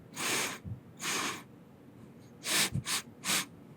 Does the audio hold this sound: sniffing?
yes